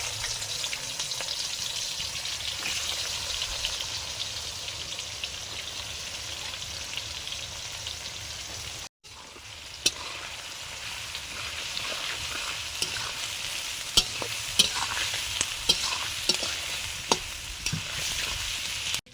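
Onions and cardamom frying in hot oil in a home kitchen, a steady dense sizzle running throughout with a brief drop near the middle and scattered sharp crackles and pops later, with no voices.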